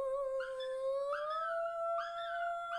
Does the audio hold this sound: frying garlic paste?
no